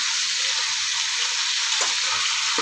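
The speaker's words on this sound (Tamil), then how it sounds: "நமக்கு இந்த மாதிரி ஷாலோ ஃப்ரை பண்ணும்போது நல்லாவே கொஞ்சம் வெந்து வந்துடும்" Chicken pieces shallow frying in oil give a steady, close sizzle throughout, with a few faint clinks of a utensil near the end and no talking.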